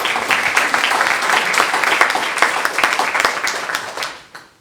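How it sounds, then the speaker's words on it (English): Sustained applause from an audience at a school district partnership announcement, dense steady clapping that fills the space and fades out toward the end. "So I think it's appropriate to give them a round of applause."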